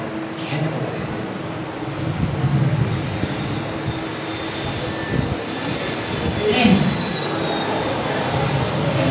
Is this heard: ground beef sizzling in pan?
no